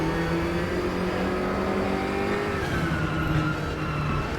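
GT3 race cars in a racing video game accelerate with loud, sustained engine drone and rising revs as several cars run close together on track, with no commentary over it.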